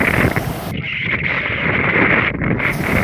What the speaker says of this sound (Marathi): तुम्हाला आवाज ऐकवतो बघा वाऱ्याचा